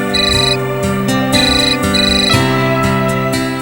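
A mobile phone ringtone rings for an incoming call, a loud, bright electronic melody with repeating tonal phrases that play steadily and alone with no talking.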